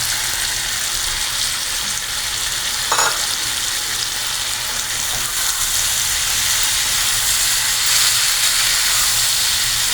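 Salt-and-turmeric fried fish head dropped into a hot pan of oil, a loud continuous sizzle and hiss with a brief clatter partway through, close and steady throughout.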